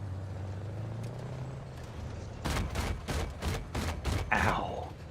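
A rapid burst of about seven heavy, evenly spaced shots from 30 mm cannon fire and gunfire in the Battlefield 6 video game breaks in midway over a low background rumble, followed by a hissing whoosh.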